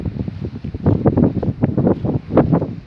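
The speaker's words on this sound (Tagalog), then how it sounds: "Kaya madalas ang sandstorm. Lakas ang hangin." Gusty wind from a desert sandstorm in Saudi Arabia buffets a microphone outdoors: loud, irregular low rumbling bursts that rise and fall in quick pulses, close and rough, with no voices.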